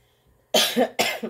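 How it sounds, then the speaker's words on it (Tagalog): Two sharp, close coughs from one person, the second following about half a second after the first, each with a short rough tail, after near silence. "Lahat po kami dito inuubo."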